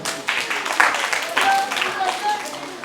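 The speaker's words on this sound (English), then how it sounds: "Clap for yourselves." A classroom audience at a maths festival claps briefly in a scattered, uneven burst of many hands, moderately loud and close, with a few voices mixed in.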